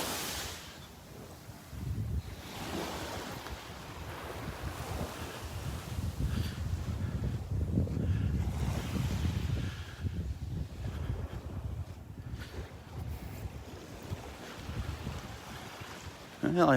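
Waves and surf wash along a sandy beach at Delnor-Wiggins in Naples during a morning walk, a steady broadband roar mixed with wind buffeting the microphone, rising and falling over about seventeen seconds with no talk.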